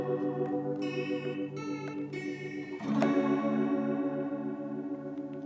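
A sustained, chord-rich instrument runs through an amp with compressor, vibratone, echo and small room reverb, its tones wavering and echoing, with a brighter struck chord midway ringing out into a lingering tail.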